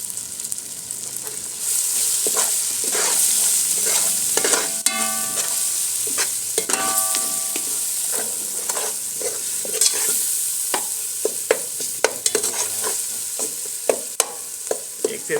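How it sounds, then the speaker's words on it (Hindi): Masala with crushed red chilli fries in a pot for dhaba-style Lahori egg chana, a continuous close sizzle with frequent spoon scrapes and clinks against the metal as it is stirred. "1 से 2 मिनट तक इसको भून लेंगे ताकि मसाला हमारा अच्छी हो।"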